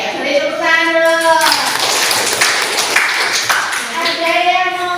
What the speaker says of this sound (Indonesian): Oke, ya beri tepuk tangan dulu.